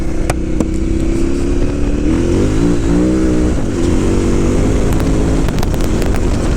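A KTM 990 Adventure S motorcycle accelerating, its engine revving loud and close with rising pitch through the gears over constant wind rush.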